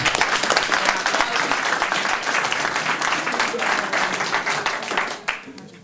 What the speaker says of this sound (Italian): E adesso dovete farlo un po' più grande l'applauso